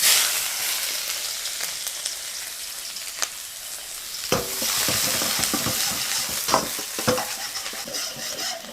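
Onions hit hot oil in a pan for egg noodles, setting off a loud close sizzle broken by sharp scraping stirs and clinks of a spoon against the pan, with no talking.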